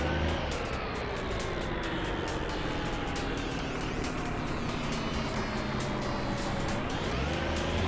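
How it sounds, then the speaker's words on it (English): Car engine in the video game My Summer Car droning steadily at close range, a loud continuous hum with a slowly falling pitch and a slight rise near the end, no talking. "Looking forward to not having to hear these engine sounds."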